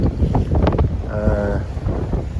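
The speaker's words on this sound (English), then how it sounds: "nice to see we've actually got a bit of wind." Wind buffeting aboard a sailing ship at sea on a morning voyage from Marseille to Palermo, loud steady rumble and gusts across the microphone with faint background voices.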